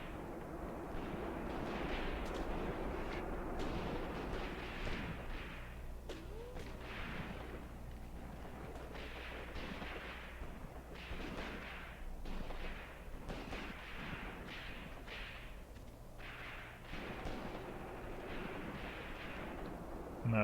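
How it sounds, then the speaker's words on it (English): Distant Russian submachine gun fire crackles in scattered bursts across a Graviteam Tactics battlefield of the 1942 Kharkov fighting, mixed with heavier booms and a steady low rumble throughout. "But I'm starting to hear Russian submachine guns"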